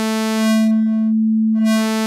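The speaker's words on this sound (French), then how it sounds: "Vous voyez, c'est une forme d'onde sinusoïde de base." A Modal Electronics Argon8 synthesizer plays a plain sine-wave tone, a steady pure pitch held for about two seconds; the upper overtones briefly drop away mid-note, leaving a softer, rounder hum before they swell back.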